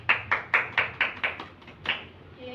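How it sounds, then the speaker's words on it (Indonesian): A classroom gives a short burst of applause for a presenting group, about eight distinct claps in quick, slightly uneven rhythm, fairly close, then silence. "Ayo berikan tepuk tangan buat teman kalian yang telah mempresentasikan dengan baik"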